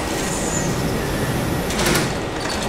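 A Berlin U-Bahn DL70U train in Trainz, a loud, steady rumble and hiss of the train at a station, with a brief brighter clatter near the end like doors closing.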